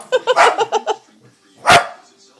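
A dog barks on a TV, a quick run of about six sharp yaps followed by a pause and then one louder, longer bark.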